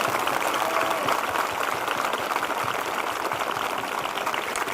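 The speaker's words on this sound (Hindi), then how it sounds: "जिनके हो चुके हैं वो जोरदार ताली बजाकर धन्यवाद दें।" A church congregation clapping loudly together in thanks, a dense sustained roar of many hands across the whole stretch, with no talk.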